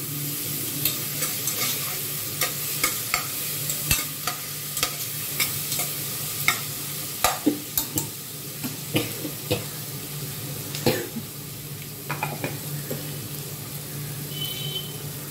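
Ginger garlic paste fries in a hot pan at home, with a steady sizzle and repeated clicks and scrapes of a spoon stirring it, close and fairly loud, and no voices.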